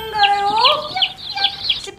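A cartoonish chick-chirping sound effect: rapid, bright, high peeps with sweeping pitch tumble over each other for about two seconds, loud and up front.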